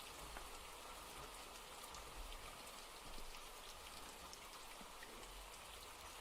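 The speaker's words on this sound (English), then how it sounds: "Rain." Steady rain falls in a soft, even patter across surfaces, a continuous wash of drops heard alone at low volume, opening a song.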